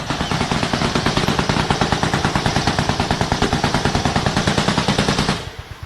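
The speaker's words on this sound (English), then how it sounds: "We can hear heavy automatic machine gun fire in the distance" Heavy automatic machine gun fire during cartel combat rattles in one long, rapid, evenly spaced burst of loud shots for about five seconds before cutting off into quieter background noise.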